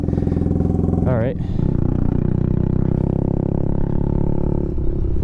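A Kawasaki Z125 Pro fitted with a wide-body fairing kit cranks, catches and settles into a steady, loud idle close by, with a brief spoken remark over the start.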